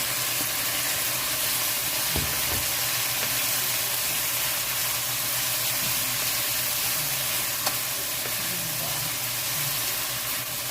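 Cabbage fries in a covered pan, a loud continuous sizzle with oil spattering and occasional soft knocks of the lid or utensil.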